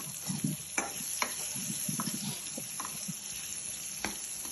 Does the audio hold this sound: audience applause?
no